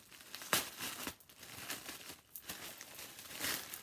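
Tissue paper wrapped and securely taped around a Kurt Geiger wallet-on-chain bag being pulled open, close, quiet crinkling and rustling with a few sharper tearing rips.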